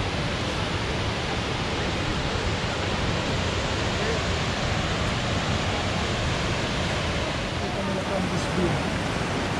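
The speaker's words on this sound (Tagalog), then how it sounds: "Ayan, yung water na nanggaling sa falls." A waterfall in Waterton National Park on the way to Cameron Lake pours in a constant, dense rushing roar, steady and even throughout with no break.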